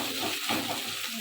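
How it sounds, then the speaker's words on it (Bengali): Bombay duck (lote) fish frying in a pan gives a soft, continuous sizzle with light stirring scrapes, close but fairly quiet over a brief moment. "দেখো লাল লাল করে ভেজে নিলাম।"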